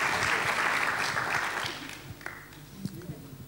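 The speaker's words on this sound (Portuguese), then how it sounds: "uma salva de palmas" Applause from an audience at a talk on symbolic art, a dense broadband patter that is loud at first and then thins out to scattered claps.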